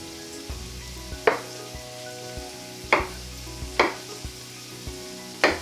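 Vegetables softening in a pan for a vegan paella, a low continuous sizzle punctuated by four sharp scraping stirs at irregular intervals, close and moderately loud, with no talking.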